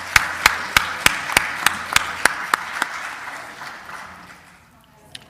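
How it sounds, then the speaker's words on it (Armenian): Applause during an Armenian parliamentary session: about ten sharp, evenly spaced claps ring out in a steady rhythm, then give way to a fading wash of room noise. "Առաջարկում եմ ծափահարենք։"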